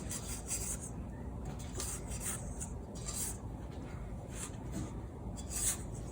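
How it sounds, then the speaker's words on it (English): A utensil scrapes the inside of a mixing bowl while making a coconut chess tart, producing repeated soft rasping strokes in an uneven rhythm, close and fairly quiet over a low kitchen background hum. "Can you scrape the inside of the bowl?"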